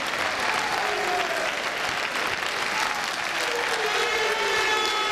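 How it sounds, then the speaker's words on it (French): Congress delegates applaud in a hall as a party official enters, a dense, steady wash of clapping from a large crowd lasting throughout at an even, fairly loud level. "Pierre Ngolo fait son entrée en salle sous les applaudissements des congressistes."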